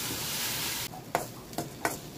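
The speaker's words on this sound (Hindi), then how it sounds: "अब लगातार करछी को चलाते रहेंगे।" A ladle stirs ground spices in a cooking pot over a steady sizzle, then three distinct scraping strokes sound close and clear once the hiss drops away.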